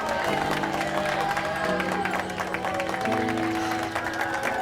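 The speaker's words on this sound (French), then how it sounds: "Et on applaudit bien fort la jeune mariée." A wedding crowd claps for the bride in steady, continuous applause, mixed with music and voices in the background.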